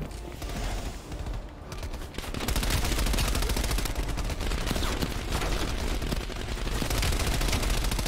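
Gunfire in the Black Ops Cold War campaign, dense rapid bursts of automatic weapons fire that build into a loud continuous fusillade after a quieter opening.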